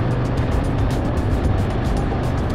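A 2024 Harley-Davidson Road Glide motorcycle cruises in third gear, its engine a steady, loud, continuous drone mixed with road and wind rush, with no voices.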